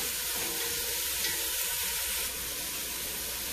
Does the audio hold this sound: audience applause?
no